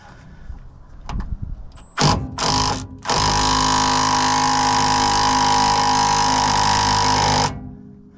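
A small impact wrench backs off a brake: a few short bursts, then a steady, close whirring run of about four seconds that cuts off cleanly.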